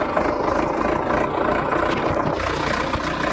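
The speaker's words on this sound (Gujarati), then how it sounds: "તો મિત્રો આપણે ટ્રેક્ટરનો એકદાન આપણે અવાજ સાંભળી લઈએ કે કેવો આ ટ્રેક્ટરની અંદર આપણને અવાજ આવે છે." An Indofarm 3055di 60HP 4x4 tractor engine running, a steady close diesel rumble with a dense low throb that stays even and loud throughout, without talk.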